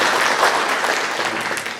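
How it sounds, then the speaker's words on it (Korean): Members of a church congregation clap to welcome first-time visitors at a Sunday service, close, steady applause from many people over nearly two seconds, fading slightly toward the end without speech. "박수를 하겠습니다."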